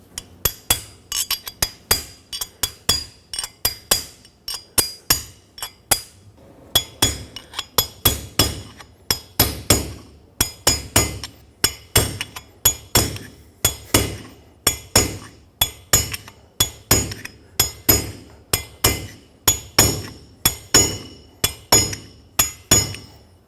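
A hammer taps a rear wheel bearing race into place on a Ford F-350 with a steady run of sharp metallic strikes, close and fairly loud, about one or two per second over more than twenty seconds, and no talking.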